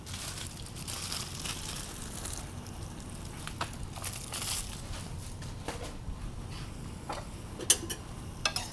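Broccoli and cauliflower pieces tumbling into a reduced adobo sauce in a pan, a soft steady sizzle with scattered light clatters and stirring scrapes, close and fairly quiet, with no talking.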